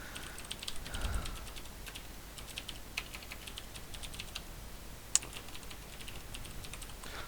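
A username and password are typed on a computer keyboard, with quick irregular key clicks and a louder single tap, close and fairly quiet with no talking.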